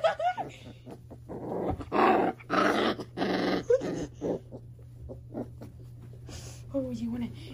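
A puppy growls repeatedly in rough, close bursts, interspersed with a person talking and some small yelps.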